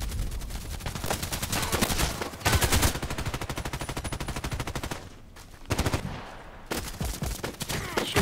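Rapid bursts of HK417 rifle fire in a shooter video game, loud and close, with dense repeated shots broken by short pauses.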